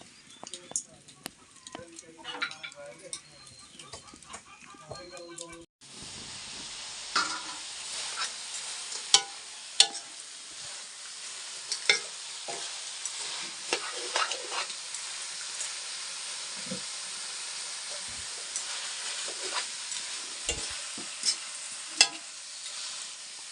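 Organic garlic fries in a pan with a continuous crackling sizzle and occasional stirring knocks, after a few seconds of talk outdoors near the start.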